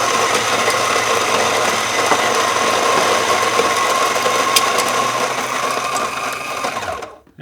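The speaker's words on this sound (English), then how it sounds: "We're going to grind that on a pretty coarse grind." A Baratza Vario electric coffee grinder grinds beans on a coarse setting, a loud steady whirring motor drone with gritty crunching that runs continuously, then cuts off abruptly at the end.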